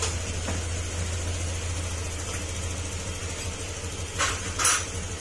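Car engine idling steadily after repair work on the solenoid and idle control, a low even hum throughout with a couple of brief metallic clinks near the end.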